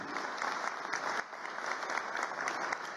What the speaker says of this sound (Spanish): El aplauso para Rafael Ninalaya Vila